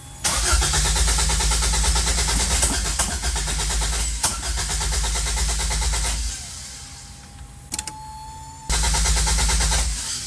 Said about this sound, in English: Let's give it a rip now. You hear the fuel pump now.